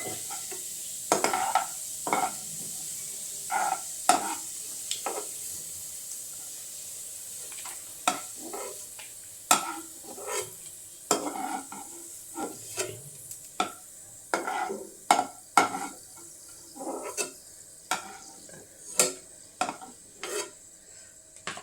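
Julienned ginger frying in hot oil for a beef pickle, a steady sizzle broken by repeated sharp scrapes and clacks of a spoon stirring against the pan, close and even throughout with no voices.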